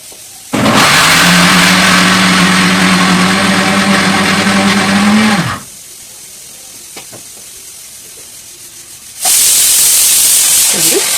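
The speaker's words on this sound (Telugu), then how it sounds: "ఇలా మిక్సీ జార్ అయితే తీసుకుని ఈ పీస్ అన్ని ఇందులో వేసుకుని మిక్సీ అయితే పెట్టేసుకుందాం" A mixer grinder dry-grinds coconut pieces into powder with a loud, steady motor whine for about five seconds. After a quiet gap with small clicks, a second loud burst starts near the end.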